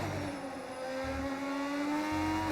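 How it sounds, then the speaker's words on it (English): Classic V6 racing car engine in the F1 25 video game, revving high and steady with rising pitch, loud and continuous, no voices. "What engine makes that sound? This is a V6."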